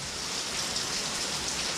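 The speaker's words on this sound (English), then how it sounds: "Every time I want to smoke something, it rains." Steady rain falls outdoors on a day meant for smoking chicken thighs, a dense, even hiss of drops on surfaces with no pauses and no voices.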